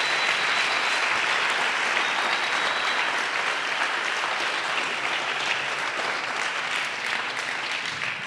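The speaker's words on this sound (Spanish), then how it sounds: "Denle un aplauso al Señor." A church congregation applauds during a sermon, steady dense clapping and crowd noise holding loud and even throughout with no break.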